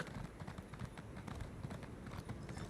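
Horse hooves clip-clop in a quick, steady trotting rhythm in the video game Elder Scrolls Online, fairly faint and close, with no one speaking over them.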